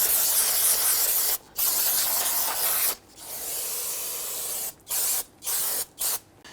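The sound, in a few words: aerosol cleaner spraying brake rotor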